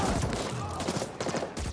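Rapid gunfire bursts from the video game Evidence - The Ascent crackle densely and loudly throughout, with overlapping shots and faint speech mixed in.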